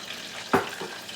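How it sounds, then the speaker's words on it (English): Frank's Red Hot and butter stirred in a pan over low heat, a quiet sizzling simmer with one brief scraping swish of the spoon and a softer one after. "you're going to stir it"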